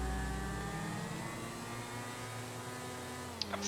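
A motorcycle engine in GTA 5 hums with a steady mid-pitched drone that holds even and slowly fades, with a small click near the end.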